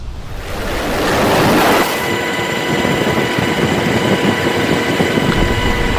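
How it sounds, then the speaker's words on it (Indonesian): A military helicopter flies over a tanker ship in the Gulf of Oman, heard as a loud, steady broadband roar of rotor and wind noise with no speech. "Rekaman Pusat Komando Amerika Serikat menunjukkan sebuah helikopter militer terbang di atas kapal."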